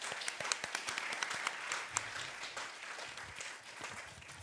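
Audience applause at an international symposium, steady clapping filling the room after a presentation, dense and continuous throughout.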